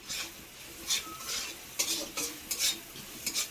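A utensil scrapes and stirs greens frying with salt and turmeric in a pan, in irregular bursts over a soft sizzle, close and without talk.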